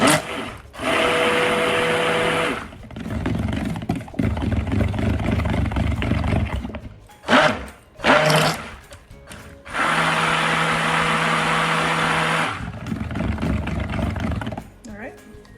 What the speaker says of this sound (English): And that we will need to use the stick blender.